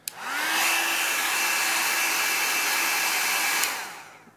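A heat gun blows a steady, loud hot-air rush while warming an iPhone during a digitizer replacement, starting abruptly, holding constant for several seconds, then cutting off with a short click and fading.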